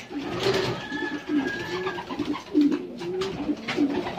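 Pigeons coo in soft repeated low phrases while eating corn at midday, several birds close by with faint rustling between calls.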